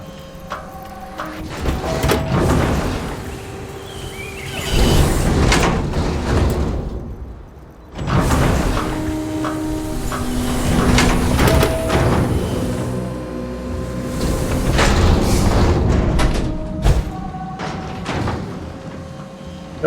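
Doors sliding and thudding open in the space game Starfield, with several heavy mechanical whooshes and thumps spread across a busy stretch of game sound effects, loud and close with no talk.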